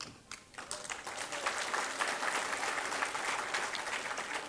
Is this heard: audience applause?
yes